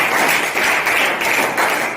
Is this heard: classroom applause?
yes